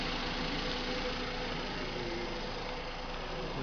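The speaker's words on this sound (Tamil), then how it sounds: "வாங்க இப்போ அந்த டிக்கி டிக்கி சவுண்டு திருப்பி கேட்கும்." A running engine on a training bench with one fuel injector coupler removed, giving a steady, close idle drone with a faint repetitive injector ticking woven through it and no pauses.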